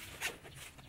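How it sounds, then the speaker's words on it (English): Zipper on a mesh screen fitted across a converted van's door, partially zipped up in a single quick, close, soft zip run lasting under a second, with no talk. "If it gets a little chilly at night, what you can do is just partially zip it up."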